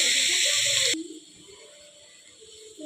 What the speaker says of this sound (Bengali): গাজরগুলো একটু ভাজবো